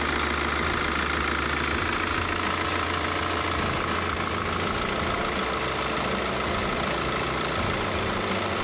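A BMW E90 318d's N47 diesel engine idles close by after a DPF replacement, a low rumbling drone with a faint rhythmic knock, continuous and even throughout with no talking.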